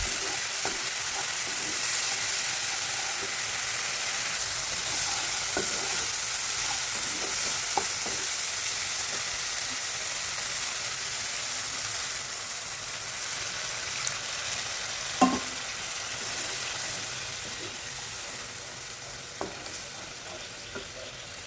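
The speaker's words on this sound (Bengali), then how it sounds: "এবার দিয়ে দেবো মশলার বাটিটা ধোয়া জল একটু নেড়ে চেড়েই পরিমাণ মতো জল দিয়ে দেবো" Ground masala loosened with water is stirred in a hot kadai for paneer kalia, a continuous close sizzle with occasional light scraping clinks of the spoon, and no voices.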